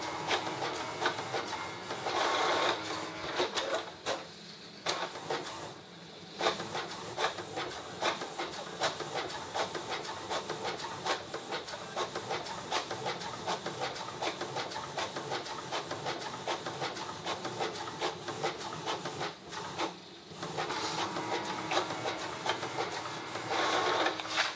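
An HP Photosmart 5510 inkjet printer with a continuous ink system runs steadily for the whole stretch, lid closed, a dense mechanical whirring and clattering with brief dips where the print head pauses.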